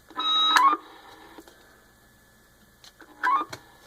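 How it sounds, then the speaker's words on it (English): A President Andy CB radio on channel 27 gives a short electronic roger-beep chirp at the start, then a second brief beep a few seconds later, with faint hiss in between. "A very unique, very nice little Roger beep."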